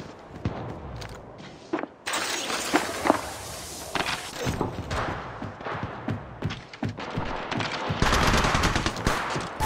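Rapid bursts of automatic gunfire and single shots in the mobile game Apex Legends Mobile, playing as Gibraltar, with footsteps and thuds between volleys, moderately loud and growing denser toward the end.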